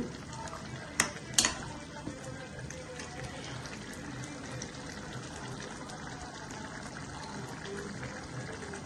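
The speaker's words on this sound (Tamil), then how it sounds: "ஓகே, நல்லா இப்போ கலக்கி கொதிச்சுக்கிட்டு இருக்கு." Chicken gravy simmering steadily in a pan, a soft continuous bubbling with a couple of sharp clinks of a utensil near the start.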